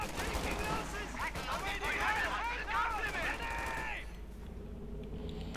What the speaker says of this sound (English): Grenades going off there